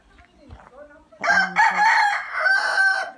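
A gamefowl rooster crows loudly and close by, one long strained call following some softer clucking and faint background noise.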